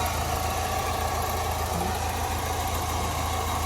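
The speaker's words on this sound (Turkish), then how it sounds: "Aracımızı gördüğünüz gibi tüpte ve benzinde sorunsuz çalışıyor." Tofaş Doğan SLX car engine idling on LPG, a steady low rumbling drone with even pulsing, close and constant with no voices over it.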